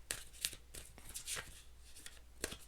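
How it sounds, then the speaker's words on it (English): A deck of playing cards is shuffled by hand, a series of crisp riffling flutters and taps in quick irregular bursts, close and fairly quiet with no talk. "Please shuffle 3 more times. I'm having a hard time shuffling."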